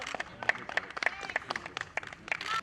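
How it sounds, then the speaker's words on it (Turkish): A small group applauds a fellow participant at a youth AFAD volunteer training session: scattered, fairly quiet hand claps come in uneven bursts, with a voice talking over them. "Hadi alkışlayın arkadaşımız ama"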